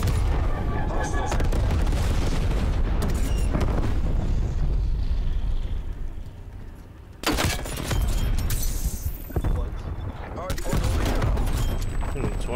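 Napalm strike explosions in a Call of Duty match, a loud, continuous roar of blasts and gunfire that briefly drops away and then surges back, with game voices over it.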